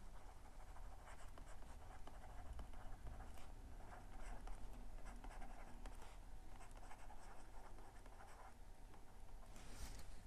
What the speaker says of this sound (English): let me write on the next page